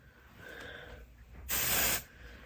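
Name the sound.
dry conditioner sprayed on hair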